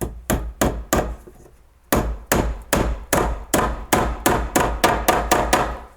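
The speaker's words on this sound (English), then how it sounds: "we throw a staple in there right away to make sure that it's in the place it belongs" Staples hammered in to fix electrical wire in place during a kitchen remodel, a series of loud, sharp close-up blows in quick bursts with a brief pause after the first few.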